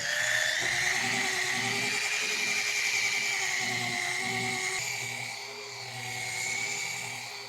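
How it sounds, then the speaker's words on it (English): A rotary polisher working car paint on a GMC Yukon Denali gives a steady, high-pitched whine with a low humming drone underneath, continuous and close, dipping briefly before rising again. "just rotary, forced action, dual action."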